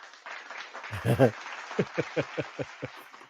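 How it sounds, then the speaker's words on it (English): A scattered golf clap from a small group, a handful of evenly spaced, fairly close hand claps following a brief burst of voices, with light talk in the background. "Oh yes, the crowd goes crazy."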